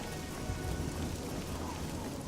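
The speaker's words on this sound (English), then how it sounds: "And of course it's raining" Rain falls steadily in a stormy scene in The Elder Scrolls IV: Oblivion, a soft, constant wash of drops with low rumbling underneath, fairly faint and with no talk.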